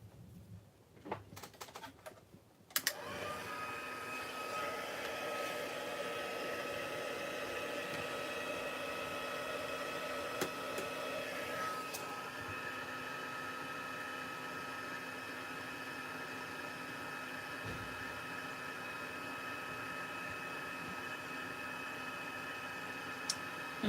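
A heat embossing tool warms embossing powder on a craft project. After a few soft knocks, a steady whirring hum with a faint tonal whine switches on and runs unbroken for about twenty seconds. No one speaks.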